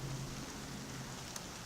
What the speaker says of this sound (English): is raining out. Well, sprinkling. For here, that's a lot of rain.